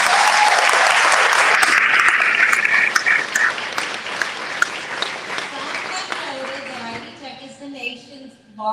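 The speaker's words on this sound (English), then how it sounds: "Could you give them all an applause?" A loud burst of audience applause at a community college event, dense clapping that gradually thins and fades as a voice starts speaking toward the end.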